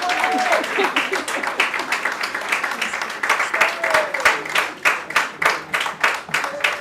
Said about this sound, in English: With a round of applause, let's put our hands together